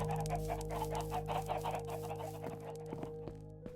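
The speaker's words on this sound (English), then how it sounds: "Let's go check up on my chickens." Several Minecraft video game hens cluck in quick, overlapping bursts over a steady background hum, fairly faint and fading toward the end.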